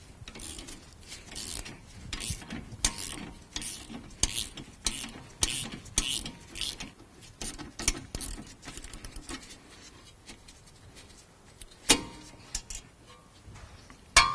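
A 17 mm open-end wrench loosening the front brake caliper bolt on a Smart Fortwo: a rapid series of close metallic ticks and clicks in an uneven rhythm, quieter in the middle, ending with a couple of sharper knocks.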